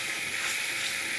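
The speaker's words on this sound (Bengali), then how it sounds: "গরম মশলা দিয়ে দিয়ে মশলা কষানো হবে" Beef fries with garam masala spices in a pan, a short burst of dense, even sizzling close up.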